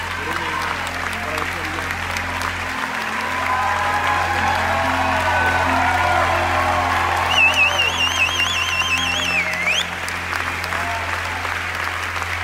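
Sustained audience applause at the Venice Film Festival, steady and full throughout, with a voice speaking over the clapping and a brief whistle-like tone partway through.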